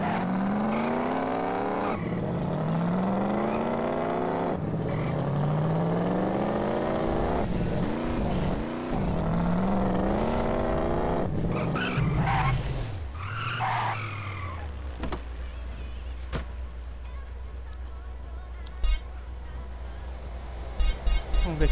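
Racing car in GTA San Andreas with modded engine sounds, the engine revving and shifting through rising and falling pitch sweeps, followed by long tire skidding, a squealing slide and a few sharp knocks near the end.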